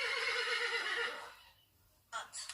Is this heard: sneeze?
no